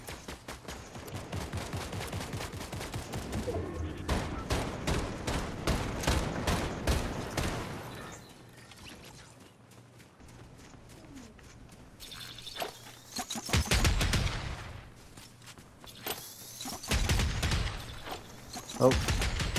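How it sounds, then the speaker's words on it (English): Rapid bursts of gunfire in Fortnite squads, with many sharp shots in dense volleys, a quieter lull in the middle, then more loud volleys. A player talks over the shooting. "Right here in front of me. Shots everywhere."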